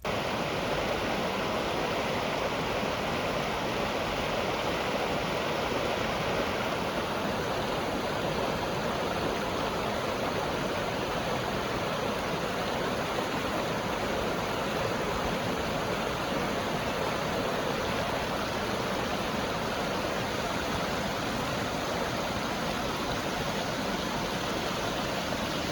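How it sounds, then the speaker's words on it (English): Deckertown Falls, a waterfall in a gully in the Finger Lakes region, gives a steady, dense roar of falling water that holds evenly throughout with no voices. "you can find Deckertown Falls, which is in a beautiful gully that most people don't even know about"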